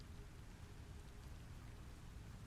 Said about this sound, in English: I didn't realise it rained in this game either